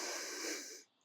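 A single long breath out through the mouth during fascia release work with a massage ball, a close, soft hissing exhale lasting under a second before fading to quiet.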